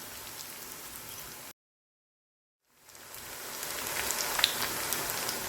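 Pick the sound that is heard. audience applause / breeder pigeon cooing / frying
frying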